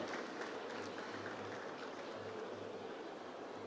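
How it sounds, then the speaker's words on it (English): A large crowd at the NPP 2024 manifesto launch rally applauds, a faint, distant and steady wash of clapping that continues without pause. "I think a round of applause will do."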